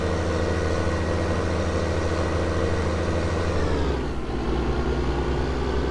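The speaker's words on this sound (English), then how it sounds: "this tractor struggles with all these bales." A tractor engine drones steadily under a load of bales in Farming Simulator 19, a continuous loud mid-pitched hum with a brief dip in pitch near the end.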